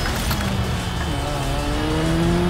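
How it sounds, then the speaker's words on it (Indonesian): Mazda rotary-engined race car in the Need for Speed Most Wanted video game, a loud continuous buzzing engine note climbing steadily in pitch as it accelerates, with dense game noise throughout. "duel Mazda atau duel Rotary ya guys ya. Soalnya suaranya sama-sama Rotary tau."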